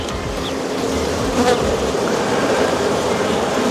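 Honey bees buzz densely around an open hive during an inspection, a close, continuous hum with individual bees droning past and no talking.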